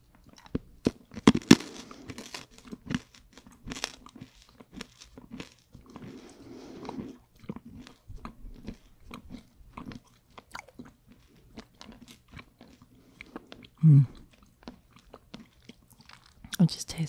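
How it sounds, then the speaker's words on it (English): Crunchy, buttery Dutch butter candy is chewed up close, with sharp cracking bites and steady crunching mastication spread across the whole stretch, and soft talk in between. "And it's a crunchy type of candy."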